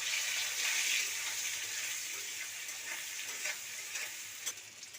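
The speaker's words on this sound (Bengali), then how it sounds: "আমি আলুটাকে এবার ভেজে নেব।" Potato pieces seasoned with salt and turmeric fry in hot oil in a wok, giving a steady, close hiss and sizzle that fades slightly and is broken by a few crackles.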